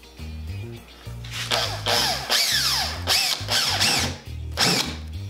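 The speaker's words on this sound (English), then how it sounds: "what I'm gonna do is just drill a small amount, pretty much just to scrape the paint off" A small power drill bites briefly into painted wooden pumpkin candles to scrape off paint, several short revving bursts that rise and fall in pitch with brief pauses between, close and fairly loud, no talking.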